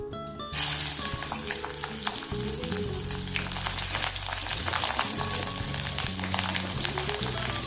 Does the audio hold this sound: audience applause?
no